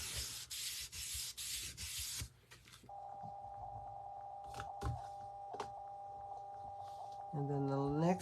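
A tool rubs across a folded paper card for a small bound book, giving several close, brisk scraping strokes at the start, followed by a sustained electronic tone and scattered soft handling noises.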